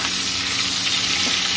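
Bada prawns just turned over and frying in mustard oil in a wok, giving a close, continuous sizzling hiss with faint stirring scrapes, steady and unbroken with no voices.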